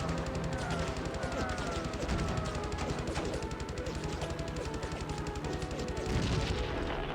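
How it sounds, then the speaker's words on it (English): Heavy cannon fire from a WWII fighter plane in the PS2 game Heroes of the Pacific, during the Battle of the Philippine Sea: loud, continuous rapid-fire bursts with a steady rattling rhythm over engine drone. "We can out damage them with our heavy cannon."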